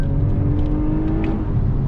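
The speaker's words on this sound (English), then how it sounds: "I like the sound of the catback exhaust, that's for sure." Toyota Avalon TRD (2021) catback exhaust under acceleration, a steady droning engine note with a rising hum heard from the cabin, no talk.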